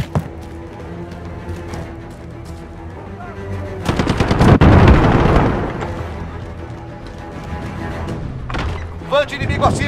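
Gunfire in Call of Duty Modern Warfare, PC multiplayer headquarters mode: continuous rapid automatic shots and booming blasts build to a loud, dense burst midway, then sharp shots near the end.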